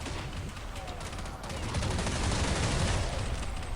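MP5 submachine gun firing in Counter-Strike Online Zombie Z, a sustained loud automatic rattle that builds toward the end amid dense combat noise.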